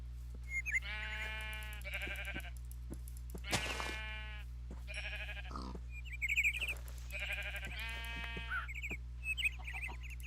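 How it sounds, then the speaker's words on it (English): A Twilight Forest ram in modded Minecraft bleats repeatedly, several wavering baa calls spread across the clip alongside clicks and short game sound effects. "yep, that's a Twilight Forest ram"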